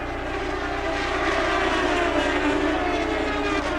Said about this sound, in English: Could be a broken header on the engine that causes that exhaust note change.